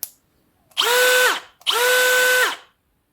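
Bosch Professional GSB 185-LI cordless drill run at its first speed. It whirs in two separate bursts of about a second each, close and clear, each one spinning up and winding down against near silence.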